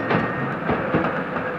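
A passenger train pulling out of a station, a steady close rumble with rhythmic wheel clatter and rolling carriage noise, no voices.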